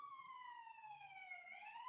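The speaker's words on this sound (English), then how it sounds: "We have some sirens going off." Police siren wailing outside an apartment complex, a steady falling-then-rising tone heard faintly from a distance with no talk over it.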